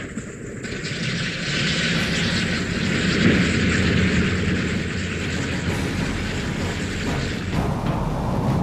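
Steady, loud drone of B-17 bomber propeller engines readying for a wartime mission, a continuous rumble holding throughout with no break.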